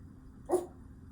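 A big dog lets out one short, muffled bark or yip, faint and brief against a quiet room.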